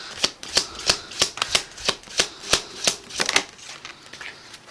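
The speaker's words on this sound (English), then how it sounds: "I'm going to pull one more card for the Chariot" Deck of tarot cards being shuffled before a draw, a series of about fourteen crisp riffling snaps at a quick, slightly uneven pace, close and clear with no talking.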